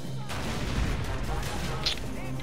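Loud, dense battle noise from the World War II strategy game Faces of War, with mortar firing and heavy explosive rumbling throughout a short burst of combat.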